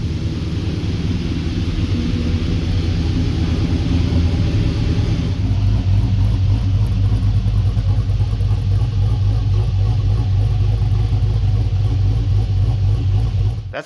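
An LS V8 engine swapped into a 1965 Chevrolet Impala idles and rumbles through its exhaust, deep and steady, with a throatier, louder tone after a few seconds, running continuously close by.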